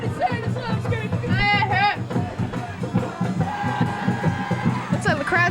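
Crowd at a 2000 high school football game between Cherry Hill East and West, cheering and yelling in dense waves, with shrill whoops and a loud, busy babble throughout.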